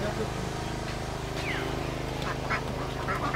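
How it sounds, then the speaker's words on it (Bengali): Many ducks quack at a duck-dish restaurant, Monchura Coffee House in Bhairab, as repeated nasal calls mixed with a steady low engine-like rumble and people speaking nearby. "এইখানেও কিন্তু হাঁস রয়েছে"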